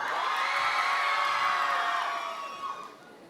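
An audience at the Chibi Rouen Hanami 2024 cosplay contest cheers loudly for the final performance, a dense wash of shouts and high whoops that holds for a couple of seconds and then fades away.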